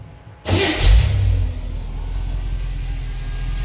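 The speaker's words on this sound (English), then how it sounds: "Let's go ahead and fire this up so you can hear it run." A 1931 Ford Model A Tudor sedan street rod engine cranks and catches with a loud burst, revs briefly, then settles into a steady low rumbling idle close by.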